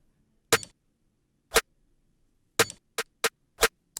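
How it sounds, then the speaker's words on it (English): A crisp snare drum layered with a pitched-down little beep hits six times in an uneven pattern, each short and punchy against silence. "I got that little beep under the other snare."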